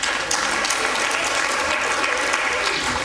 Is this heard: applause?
yes